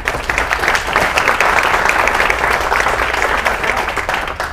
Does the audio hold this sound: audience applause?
yes